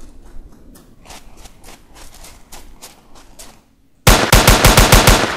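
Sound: gunfire shooting barrel fish in Call of Duty video game

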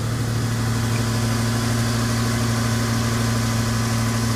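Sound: 1995 Toyota T100 engine idling

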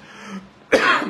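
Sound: coughing and throat clearing

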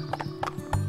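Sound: horse hooves and whinny in the video game Barbie Horse Adventures

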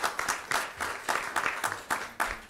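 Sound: audience applause at academic symposium

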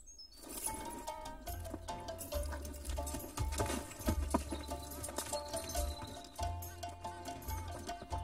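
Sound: horse galloping away with rider

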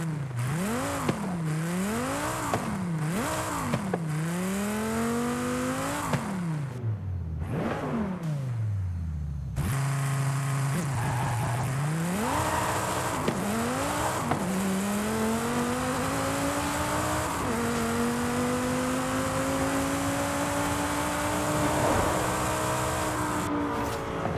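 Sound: Dodge Viper ACR V10 engine revving, Forza Horizon 5 video game

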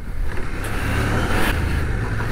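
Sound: CF Moto 800MT motorcycle engine riding off-road

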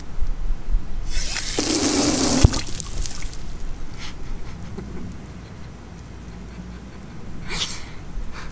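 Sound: water turned on through hose and pressure regulator

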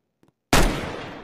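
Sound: gunshot sound effect in Roblox video game

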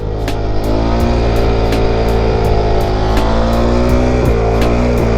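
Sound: KTM motorcycle engine revving with throttle

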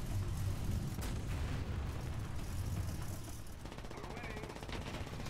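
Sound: gunfire in a video game

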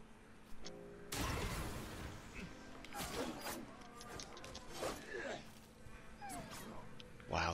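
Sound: dogs whimpering and barking in the video game Ghost of Tsushima

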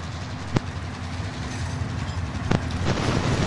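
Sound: train passing in video game Warzone

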